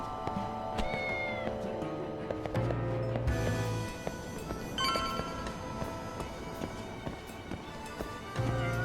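Cats meow repeatedly inside the video game Lost Judgment, several plaintive calls layered over busy game music and effects, fairly loud and with no talking.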